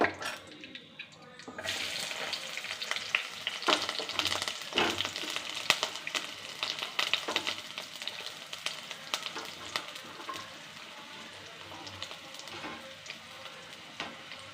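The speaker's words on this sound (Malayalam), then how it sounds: "നമുക്കിതിലേക്ക് ഉള്ളി ഇടാം" Onions hit a hot pan for a coconut-milk fish curry and sizzle loudly and steadily, with occasional scraping and stirring clatter throughout.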